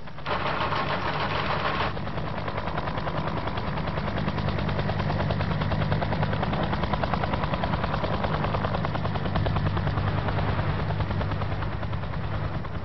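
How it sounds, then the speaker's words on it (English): Military evacuation helicopters fill the air with a loud, continuous rotor chop and engine roar, a rapid rhythmic thudding that persists unbroken throughout, with no voices. "At its height, the helicopter was touching down every 10 minutes."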